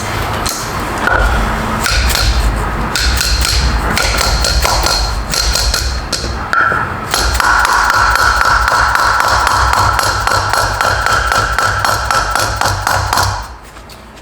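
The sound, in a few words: hammering a part into place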